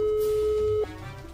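A telephone call tone sounds while dialing a PC shop: a single steady electronic tone held for most of a second, then cut off, leaving faint background hum.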